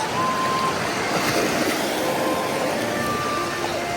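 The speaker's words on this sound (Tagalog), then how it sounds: "Maganda ang dagat." Sea waves wash and roll continuously near the coast, a broad steady hiss of surf with faint tonal hum underneath and no clear talk over it.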